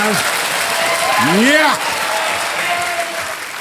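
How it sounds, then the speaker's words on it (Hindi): Steady studio audience applause on the game show Kaun Banega Crorepati fills the clip, with a host's voice rising over the clapping partway through. "तालियां बज जाएं आपके लिए।"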